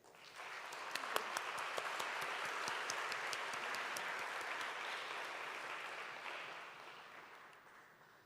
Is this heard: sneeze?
no